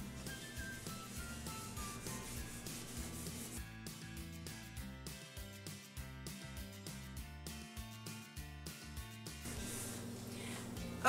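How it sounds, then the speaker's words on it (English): A wet Brillo pad scrubs a heavily soiled oven door with baked-on drips, giving steady close rubbing and scouring strokes in a repeating back-and-forth rhythm, alone without talk. "I'm gonna get my clean Brillo pad that I had, get it wet, and start scrubbing again."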